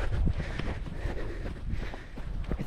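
Wind buffeting a GoPro 12 camera while running, a continuous low rumbling roar with faint rhythmic footfall thuds underneath and no voices.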